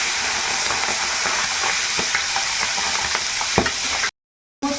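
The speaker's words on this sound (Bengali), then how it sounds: "কড়ার মধ্যে এখন সরিষার তেল দিয়ে দিলাম তো তেল গরম হয়ে গেছে এখন ট্যাংরা মাছগুলো দিয়ে দিচ্ছি" Tengra fish frying in hot mustard oil in a karahi, a dense crackling sizzle with occasional spatters and stirring clicks, close and steady before cutting out briefly near the end.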